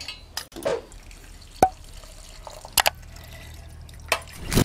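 Water poured and dripping into a mixie jar in a home kitchen, a few close splashes and drips with sharp clinks of the jar between quiet pauses.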